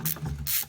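A small thumb ratchet loosens bolts on a car, giving two quick bursts of close mechanical clicking separated by a brief pause.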